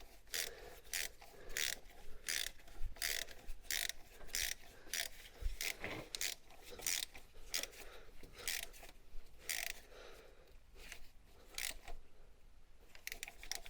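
A socket ratchet tightens new spark plugs in a Fiat 500 1.2 engine, a quiet series of rapid clicking ratchet strokes in uneven bursts with brief pauses, close up and faint, with no talk.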